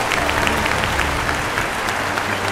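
Dense studio audience applause on a Vietnamese children's talent show set, steady and loud throughout with no voices over it.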